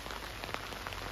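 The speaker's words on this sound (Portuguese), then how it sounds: "a chuvinha começou a cair" Light rain begins falling on the Fortuna river, a faint, soft, even patter of drops heard at a distance with no other sounds over it.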